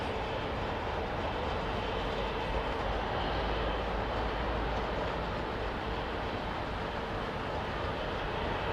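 A big aircraft engine blast at Heathrow Airport, a loud, steady, broadband roar of rushing air and jet noise that holds constant throughout with no talking.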